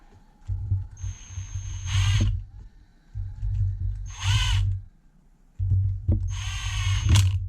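Power drill driving short screws into supports while assembling a nitro build, heard in three bursts of whirring with rising pitch, each ending in a higher whine as the screw seats, over a steady low hum.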